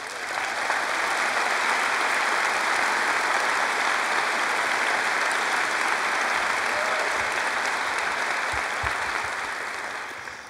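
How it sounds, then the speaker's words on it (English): Long, full applause rises from the crowd at the 2014 Chaska High School graduation as students stand to be recognised, a thick wall of clapping that stays loud and even before easing slightly at the end. "national merit finalist, Elizabeth Oberski, please stand for a round of applause."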